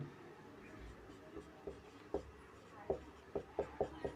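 A pen scratches across paper while a Class 10 maths solution is written out by the substitution method, soft irregular strokes that grow into a steady run of short scribbles, close and quiet under faint room noise.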